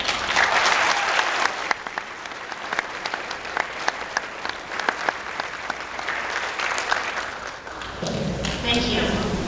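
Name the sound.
audience applause welcoming speaker to stage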